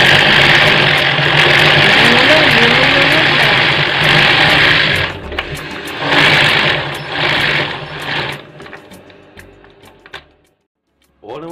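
A sewing machine winds elastic thread onto a bobbin with a loud, steady motor whir that stops and restarts in short bursts before dying away, while a voice talks over it.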